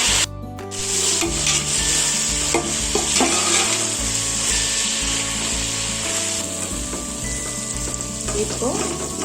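Sliced onions with a little salt frying in a pot for mutton biryani, a continuous dense sizzle with scraping and stirring strokes of a spoon against the pan, close and steady.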